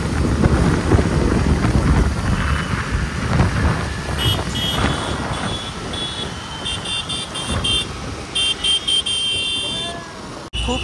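Dense street traffic on the Marine Lines bridge in Mumbai during a T20 World Cup victory parade rumbles on steadily, with engines, distant horns and a crowd's murmur mixing throughout, and a few beeps near the end.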